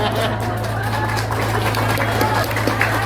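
Audience clapping at an Indonesian religious talk, a steady, dense patter of many hands mixed with crowd murmur and a low hum.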